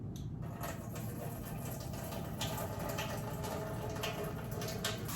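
Cloudy rinse water from washing rice pours out in a steady, continuous rush of splashing liquid, close and fairly loud throughout, with no talking.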